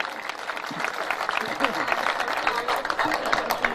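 Loud, dense applause from a hasya kavi sammelan audience fills the whole stretch, steady and sustained with speech-like sounds mixed in.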